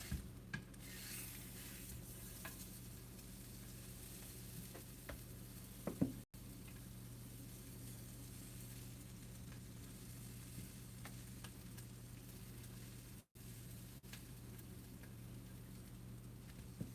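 Salmon fillet sizzles steadily in a hot pan, a continuous close frying hiss with occasional scraping and a brief clatter as it is flipped, no talking.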